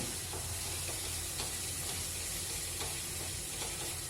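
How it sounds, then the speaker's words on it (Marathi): Sesame seeds saute with ginger and garlic in a pan, a dense, even sizzle and hiss holding steady at moderate level, with light scattered crackles and no talking. "आलं लसणाबरोबर ते तीळ परतून घेऊ"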